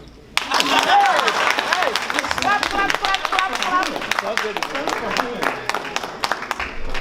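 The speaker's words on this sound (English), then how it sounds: "Clap for me now." Audience clapping at the Ijaw Diaspora Convention 2022, a steady burst of hand claps from a crowd starting abruptly and continuing throughout, with voices audible underneath.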